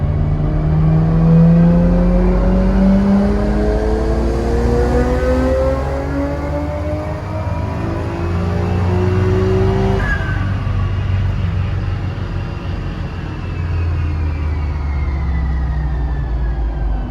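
A Nissan GT-R fitted with HKS parts roars through a loud dyno pull, its engine note sweeping steadily upward in pitch for several seconds, then dropping back and easing off, close and alone.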